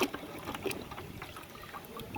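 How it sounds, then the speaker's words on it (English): Muriatic acid bubbles and fizzes over rusty traps, a close, continuous crackling hiss with scattered small pops and no voices. "You can see the acid's bubbling up there."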